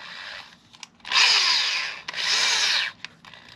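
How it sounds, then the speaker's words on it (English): A drill motor spins an engine valve held by a vacuum-hose sleeve on its stem for lapping, heard as two close, loud whirring bursts of about a second each with brief quiet gaps between. "Then I put it into my drill motor."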